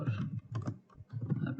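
Typing on a computer keyboard while coding a Chrome extension in React: a steady run of soft keystrokes, a short pause in the middle, then more typing, close and moderately loud.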